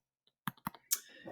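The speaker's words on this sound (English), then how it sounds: "what you're typing into your calculator is 1 divided by 4 plus 1 divided by 3 equals" Calculator keys tapped to enter a resistor calculation, several crisp plastic clicks in quick irregular succession, close and fairly quiet with no voices.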